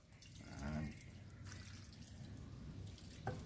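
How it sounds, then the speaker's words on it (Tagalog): A little water poured into a cooking pot, a soft trickling and dripping heard faintly and fairly close, with a brief splash near the end. "lagyan ko muna ng kunting tubig lang"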